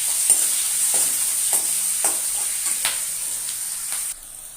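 Chopped onions frying with whole cinnamon, cloves and cardamom in a pan, a steady close sizzle broken by rhythmic spatula scrapes about every half second until the stirring stops near the end.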